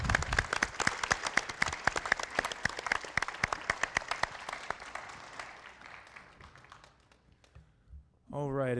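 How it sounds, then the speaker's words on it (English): Audience applause at a business pitch competition fills the hall with dense clapping, loud at first and gradually thinning out, then a voice speaks at the end. "Let's give Sustainable Futures a big round of applause."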